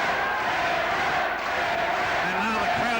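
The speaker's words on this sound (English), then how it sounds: "And now the crowd going berserk here." A boxing crowd roars and chants steadily at Collingwood Town Hall during an OBA International Lightweight Title fight, a dense, continuous wall of cheering with voices shouting inside it.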